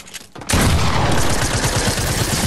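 Rapid video game gunfire bursts out suddenly after a short quiet stretch, then keeps up as loud, dense, continuous shooting.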